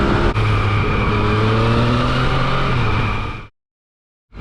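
Turbocharged motorbike engine roaring loudly up close with a sustained rising rev for about three seconds, then cutting off abruptly into silence before starting again.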